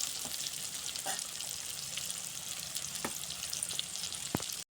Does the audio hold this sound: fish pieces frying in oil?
yes